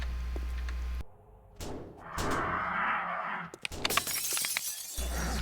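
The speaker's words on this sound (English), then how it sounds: "He's gonna break through that glass." A zombie smashes through glass in the survival game 7 Days To Die during a factory looting run, a loud, sharp shattering crash with scattered fragments over low game ambience, and no talking.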